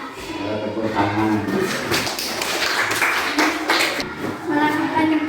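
Classroom clapping as students applaud after a presentation, a short burst of scattered hand claps heard close up, mixed with voices and background classroom noise.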